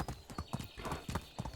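Horse hooves clip-clop in steady rhythmic beats in the medieval farming game Medieval Dynasty, fairly close with a faint whinny-like tone and no talking over them.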